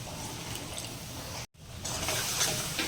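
Water is poured into a pan of onion-tomato masala for a moong dish, a steady rushing pour with a brief cut midway before the splashing resumes, close and fairly loud, with no voices.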